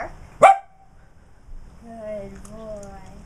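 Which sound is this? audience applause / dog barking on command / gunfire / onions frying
dog barking on command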